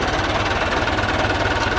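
Tractor engine idling at minimum throttle with clutch and brake locked, beside a maize irrigation reel on a farm; a steady, close, rapid knocking chug with no talk.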